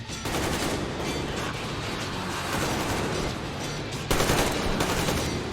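Dense gunfire rattles without a break, loud rapid bursts merging into a continuous fusillade with a sharper burst near the end.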